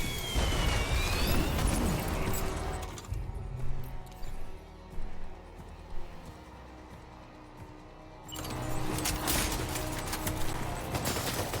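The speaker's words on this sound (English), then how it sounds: "Warrior assault rifle." Warrior assault rifle fire from Death Stranding 2 comes as dense, loud bursts of gunfire and blasts, drops into a quieter stretch of scattered shots and rumble, then swells back into heavy continuous fire.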